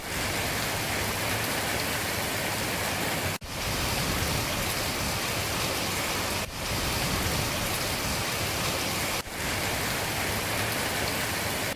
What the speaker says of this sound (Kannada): ಇವತ್ತು ಬಿದ್ದ ಬಿರುಸಿನ ಮಳೆಗೆ ರಸ್ತೆಗಳೆಲ್ಲ ನೀರು ಹರಿದು ಭೂಮಿ ತಂಪಾಯಿತು